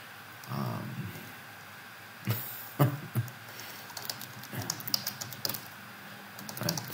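Rapid typing on a computer keyboard with stuck keys, spaced clacks and bursts of keystrokes at close range, played alone without talk.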